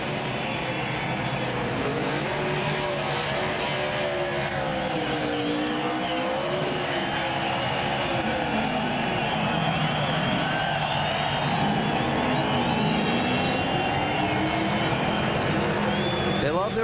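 Crowd cheering and roaring at a NASCAR Nationwide-style stock car race in Montreal, with the hum of race car engines rising and falling in the background and a commentator talking over the noise.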